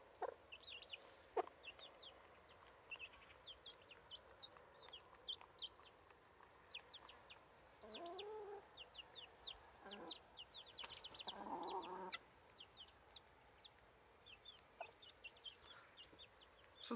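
Hens and young chicks with a broody hen, repeated soft clucks and high peeping chirps scattered throughout, faint and close, with a few louder clucking bursts midway.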